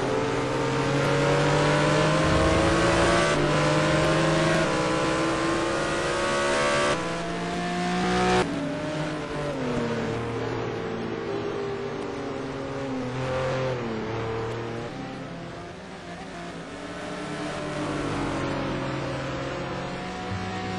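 Touring cars race at Anderstorp in the 2009 STC Black Cup, engines revving hard and loud through the gears with several shifts and a possible missed gear, held as a continuous close roar with no voices.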